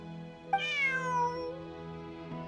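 A cat meows once in the video game Genshin Impact, a single clear, drawn-out meow with a rising then falling pitch, heard alone over a faint steady background hum.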